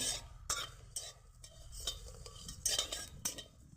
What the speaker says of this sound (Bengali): কালো জিরা, লঙ্কা, রসুন সুন্দর করে ভেজে নেব একটুখানি।